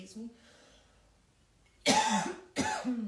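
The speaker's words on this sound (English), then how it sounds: "Excuse my coughing." Two harsh, loud coughs in quick succession after a quiet stretch with a faint voice at the start.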